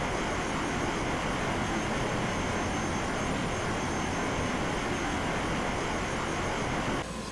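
A Me 262 jet engine roars steadily in the IL-2 1946 flight game, a loud, unbroken whine with rushing air that holds constant throughout.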